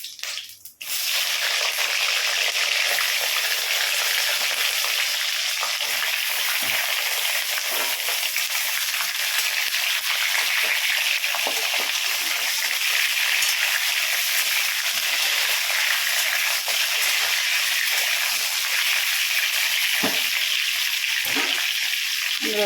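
Whole pointed gourds (potol) frying in oil in a pan with cumin for a Bengali potoler dorma: a steady, close hiss and sizzle that runs unbroken, with small pops and no talking.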